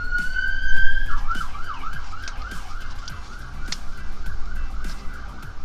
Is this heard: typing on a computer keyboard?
no